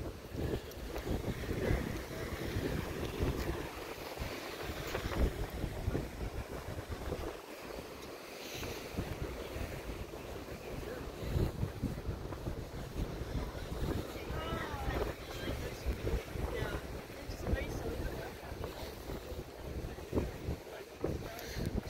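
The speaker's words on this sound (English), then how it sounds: "pretty breezy today." Gusty wind buffets the microphone steadily on Newport Beach pier by the ocean, a continuous loud rushing roar with rumbling low gusts and faint surf beneath it.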